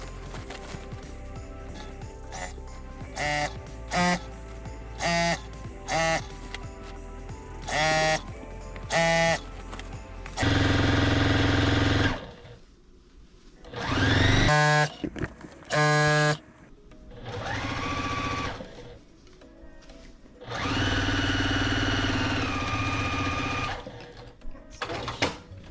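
A sewing machine stitches a quilt seam in repeated bursts, first short stop-start runs, then longer steady whirring passes, loud and close with quiet pauses between.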